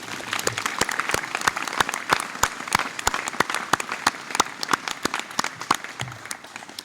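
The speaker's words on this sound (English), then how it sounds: "Let's have one more nice round of applause for our gold medal recipients." Applause at a high school graduation ceremony for gold medal recipients, a crowd clapping steadily with sharp individual claps standing out throughout, fading slightly toward the end.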